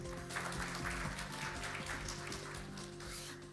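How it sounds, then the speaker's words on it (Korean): A seminar audience at a Korean medical device research results meeting claps to welcome a hospital professor, a faint, even spread of applause held beneath a steady electrical hum. "여러분 큰 박수로 환영해 주시면 고맙겠습니다"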